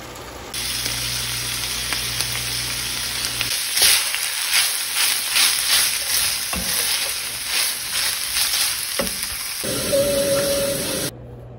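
Dirty rice sizzling in a pan, a close, continuous loud hiss with crackling bursts and stirring scrapes, stopping abruptly at the end.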